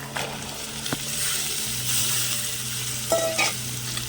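Rajma kidney beans frying and being stirred in hot oil for a village-style curry, a steady close sizzle with a few sharper scrapes and clinks of the spoon, no voices.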